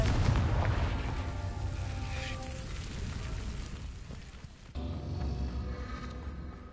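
A Confringo spell in Hogwarts Legacy detonates as a loud booming blast at the start, its rumble fading out before a second sharp explosion bursts near the end.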